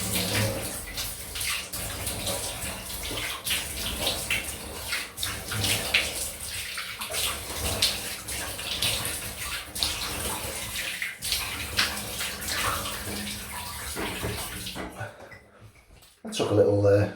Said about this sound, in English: Let's rinse the razor off.